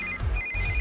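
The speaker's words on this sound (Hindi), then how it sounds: "इस वक्त दीदी का फोन।" A phone rings with a repeating electronic tone in short pulsed bursts under a low background hum, lasting under a second.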